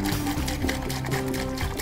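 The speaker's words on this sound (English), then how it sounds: "I'm now going to put the acetone in the jar with the jar." Acetone pours into a jar in a steady, close liquid trickle and splash lasting under two seconds, with no talk.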